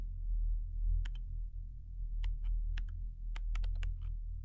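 Keyboard typing during play of the indie game Disorder: a sparse run of crisp, close key clicks, some single and some in quick pairs, over a steady low hum.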